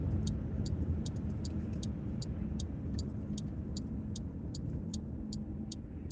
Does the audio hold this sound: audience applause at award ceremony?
no